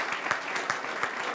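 Applause at an awards gala for a rural municipalities ranking: a steady wash of clapping from a seated audience, moderately loud and continuous with a few sharper individual claps standing out.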